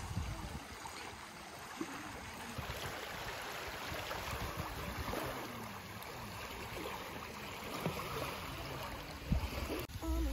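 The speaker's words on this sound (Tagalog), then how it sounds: "Hindi malakas yung wave." Gentle waves lapping on a lake shore at a campsite, a soft continuous wash of water with occasional small splashes, close and fairly quiet, with faint wind.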